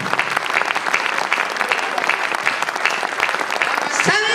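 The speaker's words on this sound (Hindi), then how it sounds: "इतनी तालियों से तो नहीं होगी साहब।" Dense, sustained audience applause fills the space at a Hindi spoken performance, a continuous crackle of many hands clapping, with a voice starting right at the end.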